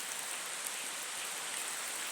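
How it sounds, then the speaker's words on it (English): Steady rain falls outdoors as an even, dense hiss of drops, moderately faint and continuous without any talking. "It's raining right now"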